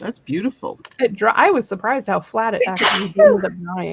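Friends chat during a live crafting coffee session, and one person lets out a single sharp sneeze partway through, a brief loud burst set among the ongoing conversation.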